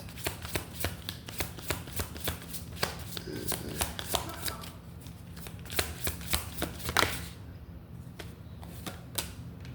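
Oracle deck of Secrets of the Ancestor cards being shuffled by hand, a close series of soft papery riffles and taps in an irregular rhythm, quiet and alone.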